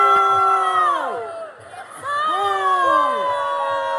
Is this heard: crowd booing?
yes